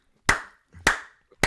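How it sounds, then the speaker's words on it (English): Three sharp, separate hand claps about half a second apart, close and clear in a quiet room during a casual podcast recording. "You're just also clapping."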